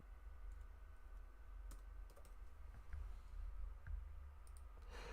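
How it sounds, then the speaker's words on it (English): Light, mild typing on a computer keyboard clicks steadily and softly at close range over a low background hum, with no voices. "We're just doing a little mild typing here"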